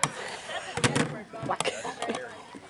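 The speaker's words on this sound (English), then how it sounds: "And then use the hammer to bash it open." A claw hammer bashes open a can of peaches with a series of sharp, close metallic knocks spread unevenly across the moment, each standing out over a rough background.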